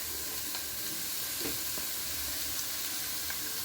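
Salted onions fry in a pan for a chicken gravy, hissing in a constant close sizzle broken by a few faint stirring clicks.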